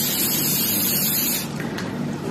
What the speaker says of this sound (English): Oh, I think I'm gonna spray these. Okay, I've got some coconut oil spray.